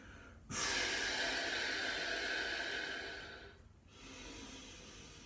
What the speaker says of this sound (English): I'm going to do that so you can hear the breathing